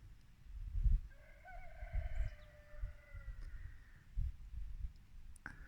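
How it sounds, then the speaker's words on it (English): A neighbor's rooster crows once from a distance in a long, faint, drawn-out call over low wind rumble outdoors. "The neighbor's rooster."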